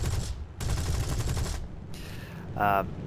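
Aircraft machine guns fire at a ground target in the War Thunder video game in rapid bursts of gunfire: a short burst, a longer sustained one, then a brief pause before further firing and an explosion-like sound. Faint background voices mix in.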